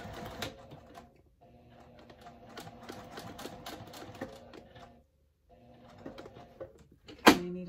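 A sewing machine runs stitching a tote bag at 2.5 stitch length in bursts of rapid mechanical chatter, pausing briefly around the middle before resuming, with a sharp clack near the end.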